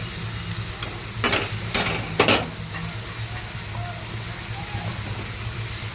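Ground spices with cumin and coriander powder are stirred in a frying pan, giving a constant sizzle broken by three or four quick, close scraping strokes of the spoon in the middle, then settling back to gentle frying.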